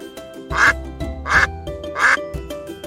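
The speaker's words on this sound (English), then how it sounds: "duck." A duck quacks three times at an even pace, loud and close, over a light musical backing, part of a farm animal sound sequence.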